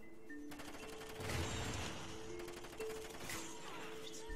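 Gunfire in an online shooter game, a faint burst of rapid shots and rattling fire in a short exchange, distant and low in level.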